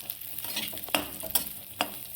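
Raisins frying in hot ghee give off a steady sizzle with occasional sharp crackles and pops as they puff up, close and alone with no talk.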